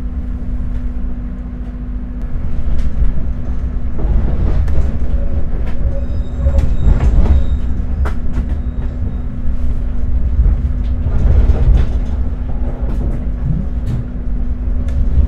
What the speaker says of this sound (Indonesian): kereta api Argo Bromo Anggrek yang saya naiki diberangkatkan dari stasiun Surabaya Pasar Turi